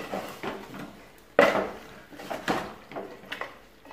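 A spoon stirs beef curry with coriander leaves in a pot, giving scattered clinks and scrapes against the metal, with one sharper knock and a few softer taps spaced unevenly.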